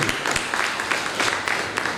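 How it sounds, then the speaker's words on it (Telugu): Applause at a teachers' day award ceremony honouring the best teachers, a steady crowd clapping loudly and continuously in an indoor hall, with faint voices mixed underneath. "దీన్ని నాతో ఏకీభవించినట్లయితే గట్టి చప్పట్లతో సమర్థించండి"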